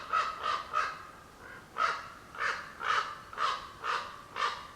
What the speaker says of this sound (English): Those are big fucking crows.